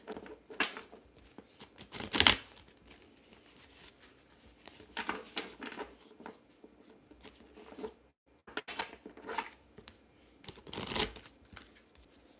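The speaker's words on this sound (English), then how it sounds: "I feel like I need to shuffle more." Tarot cards are shuffled by hand in several quick, papery riffling bursts separated by short pauses, close and fairly quiet with no talking.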